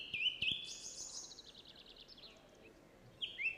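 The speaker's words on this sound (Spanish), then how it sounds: "un pájaro que canta solo, un zorzal, es una canción" A thrush sings alone in a forest: clear, whistled phrases with sharp trills, a burst at the start and another near the end, fairly close over a quiet background.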